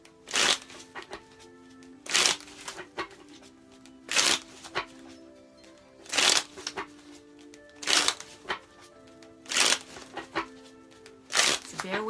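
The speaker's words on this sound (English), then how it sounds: "So bear with me while I shuffle." Tarot cards riffled and shuffled in repeated crisp bursts about every two seconds, close up, with quieter handling sounds in between.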